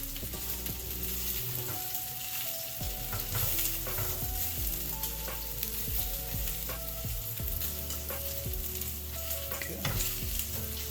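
Bacon and sliced jalapeños frying together in a pan for a BBQ bacon jalapeño burger, a steady dense sizzle with occasional clinks and stirring, close and continuous; a voice briefly speaks once.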